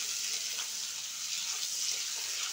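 Onion frying in oil for a home-style chicken chorchori, a soft, even hiss of sizzling heard close but fairly quiet, steady with no talk.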